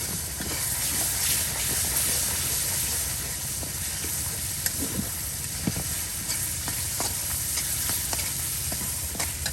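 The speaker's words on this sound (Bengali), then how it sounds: "একসাথে দিয়ে এই যে মশলা কিন্তু এখন কষিয়ে নেওয়া হচ্ছে।" Ground spice paste of ginger, cumin, garlic and onion frying and being stirred for a chicken and yam curry, a steady hissing sizzle with occasional scraping clicks, fairly loud and unbroken.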